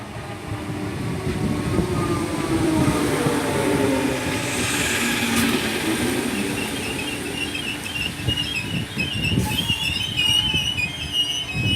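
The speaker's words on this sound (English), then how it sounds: "departing out now to Ormskirk from Liverpool Central. 507023" Class 507 electric train 507023 pulls out of Kirkdale station on a Liverpool Central to Ormskirk service, a steady loud rumble of wheels and traction with a high wheel squeal and rising whine, heard close by throughout.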